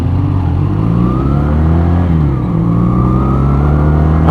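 A Benelli Patagonian Eagle 250cc motorcycle engine revs hard and steadily up close, its loud droning pitch climbing and dipping through the whole stretch with no talking.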